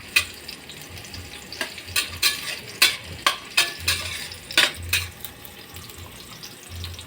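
Pork frying in a pan over a high, flaring flame, a steady near sizzle broken by repeated sharp hissing bursts and clatters as the food is stirred and tossed.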